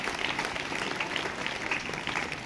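A crowd claps steadily and evenly throughout at a school ceremony honouring scholarship students, a continuous patter of applause at moderate volume with no voices standing out.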